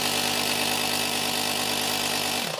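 The electric air compressor of a BAYU GEEKMAXI 4-in-1 car care kit runs with a loud, dense, buzzing motor hum close by, steady throughout and easing off at the very end.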